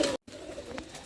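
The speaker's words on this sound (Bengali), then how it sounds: "এ আমার জালালি কবুতর" Jalali pigeons coo in a loft in soft, low, close calls, briefly broken by a moment of silence.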